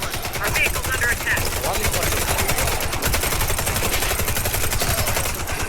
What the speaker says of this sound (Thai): เนี่ยปืนปืนกลร้อยนัดดีสุดครับ